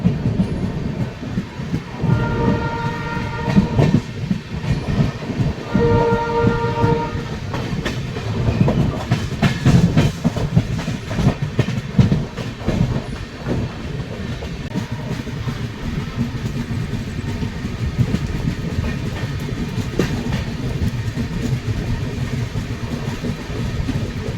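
A Garib Rath train pulls out of Kamakhya station toward Guwahati, with continuous rumbling wheels and clickety-clack on the rails, a pair of short horn-like tones early on, steady and fairly loud throughout.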